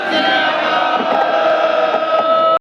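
Large crowd roars a loud, sustained Sikh jaikara response in unison, a dense wall of voices holding steady before cutting off abruptly at the end.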